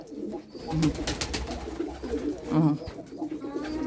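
Domestic pigeons coo in a backyard loft kept for breeding, including a Romanian pigeon, with repeated low rolling coos swelling in bursts over other bird noise and a brief spoken word.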